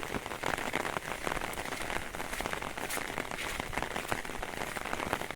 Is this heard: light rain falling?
yes